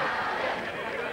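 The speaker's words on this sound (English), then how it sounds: "They can be a loud crowd." Brief burst of loud studio audience noise at a 1981 TV talk show, a dense crowd roar with babble mixed in, steady and close for about a second.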